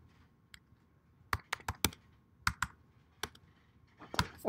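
A computer keyboard is typed on in bursts, with scattered, crisp keystrokes heard up close, some single and some in quick clusters, over a low background hiss.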